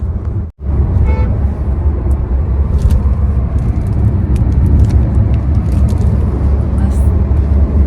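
A Hyundai Creta car engine hums steadily with road rumble throughout on the way to Lonavala, briefly cutting out near the start, while people talk over it inside the vehicle.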